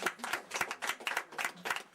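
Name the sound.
audience applause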